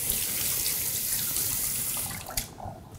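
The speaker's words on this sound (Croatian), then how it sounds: "Ja ću samo malo ruke da operem" Tap water runs into a kitchen sink while hands are washed, a steady splashing hiss close by that sputters and breaks up near the end as the flow is interrupted.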